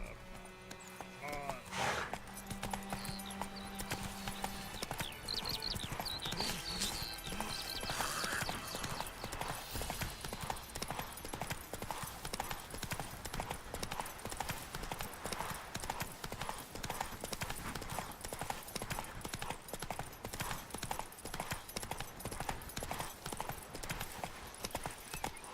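The horse Roach gallops in a video game, hooves pounding in a fast, continuous clip-clop that stays loud and steady throughout, with a voice speaking briefly near the start.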